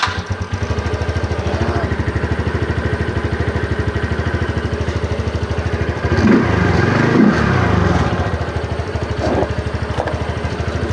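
A TVS Ntorq 125 scooter engine runs steadily after fuel-injection cleaning and RPM adjustment, a close, loud buzzing idle with a brief rise in revs midway, no talking.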